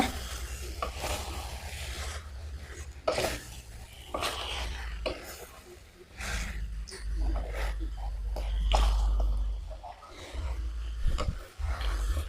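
Onions stir-frying in a pan of curry-powder crab, with scraping stirs and a low sizzle that rise and fall over the whole stretch, close and moderately loud.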